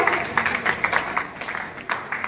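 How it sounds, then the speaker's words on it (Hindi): A crowd at a Bhojpuri film first-look launch in Patna claps for an actress, a brief burst of steady, moderately loud applause. "प्रियंका जी के लिए जोरदार ताली हो जाए"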